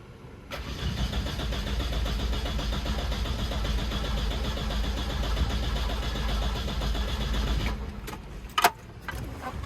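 Car engine cranking steadily on the starter during a cold, dry compression test with the throttle wide open, a continuous rhythmic churning for several seconds that stops abruptly, followed by a brief click.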